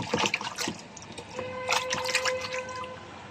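A small toy animal, a kangaroo figure, splashed and rinsed in water, with light drips and trickling and a few clinks, close and intimate.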